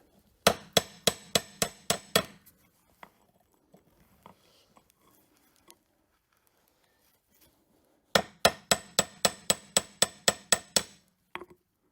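A hammer taps a Jeep Cherokee axle part into place in two quick bursts of about eight sharp, evenly spaced metallic strikes, separated by a quiet stretch with a few faint knocks.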